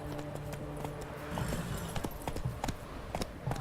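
Roach, the horse in The Witcher 3: Hearts of Stone, trots and then gallops, its hooves striking in a steady clip-clop rhythm that quickens and grows more insistent over a soft game backdrop.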